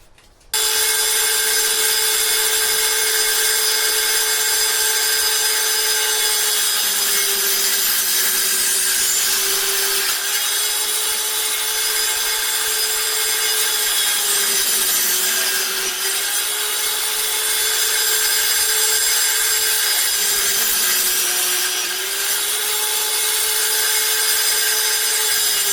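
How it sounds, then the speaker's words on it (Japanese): A hand-held or power saw cuts wooden pieces to a 150 length for geodesic dome connectors, with the blade set to 15. A steady, close sawing whine with a held tone runs without a break for about 25 seconds, and no one speaks. "ここのノコギリを15にしましたんで、これでどんどんね、切っていこうと思います。"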